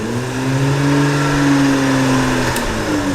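A classic Jaguar XK120 sports car with a 3.4 litre XK engine runs close by while being loaded onto a trailer, its loud, smooth engine note holding steady and rising slightly before easing, with no talk.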